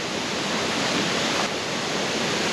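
A waterfall roars in a steady, loud, unbroken rush of falling water heard close by, with no voices and no change over its short length.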